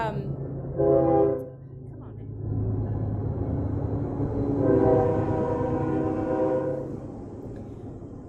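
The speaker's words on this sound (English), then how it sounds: "when the train decides to stop rolling" A passing train sounds its horn in two long blasts over a deep, continuous rolling rumble, loud and fairly close, while people talk underneath.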